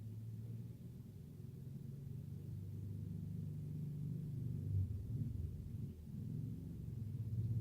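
A low, steady four-wheeler engine rumble drones from somewhere outside in East Tennessee, muffled and distant, swelling slightly toward the end with no talking.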